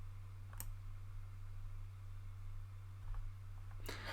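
A computer mouse clicked to save, giving a few faint, sharp clicks spaced apart over a steady low electrical hum.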